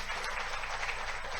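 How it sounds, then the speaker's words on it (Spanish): A church congregation applauds during a Catholic service, a faint, steady wash of many hands clapping together, heard from a distance. "Fuerte el aplauso al Señor y a su palabra."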